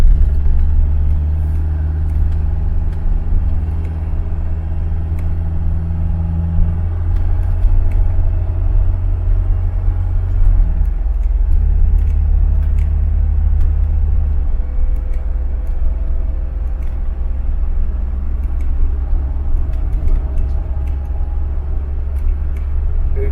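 A Ford Cortina MK3 with a Pinto engine and A4LD automatic gearbox drives along, its engine a loud, steady low rumble; near the middle the tone dips briefly as the gearbox shifts into lock-up, then settles to a lower, even drone.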